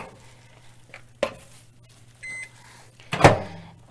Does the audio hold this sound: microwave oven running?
yes